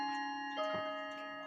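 An 1880 cuckoo clock with wooden plates ticking quietly and steadily, its soft regular beats standing alone against a faint background hum.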